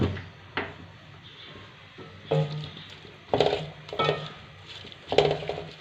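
A spoon stirs a creamy yogurt mixture for vegetable biryani in a cooking pot, giving a few scattered scrapes and soft clinks against the pot at an uneven pace, close and fairly quiet.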